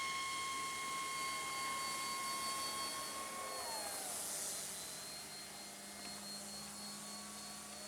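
A Tower Hobbies Beaver RC floatplane drones overhead at about 60% throttle, a steady engine whine holding throughout with a slight pitch drop as it passes, moderately distant, with no talk.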